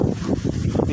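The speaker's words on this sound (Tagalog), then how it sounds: "Malakas pa rin ang hangin" Strong wind after a typhoon buffets the microphone in rough, rumbling gusts, low and blustery throughout the short moment.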